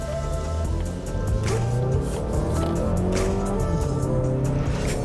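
A 2019 Mazda3 Hatchback with a 2.5-liter four-cylinder and six-speed automatic accelerates hard in sport mode, engine note climbing loudly and steadily from inside the cabin with a shift dip early on.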